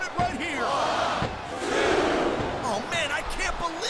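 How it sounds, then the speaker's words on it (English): A crowd chants and roars in the arena of the WWE SmackDown vs Raw 2007 video game, a loud continuous swell of many voices with a commentator talking over it. "And the crowd has come alive tonight with a chant."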